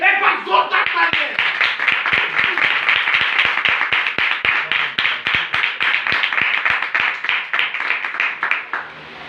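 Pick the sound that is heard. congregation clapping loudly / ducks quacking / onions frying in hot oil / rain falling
congregation clapping loudly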